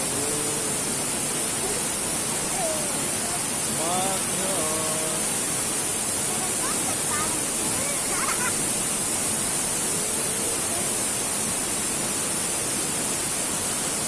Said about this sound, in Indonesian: sekarang kita berada di air terjun Segantar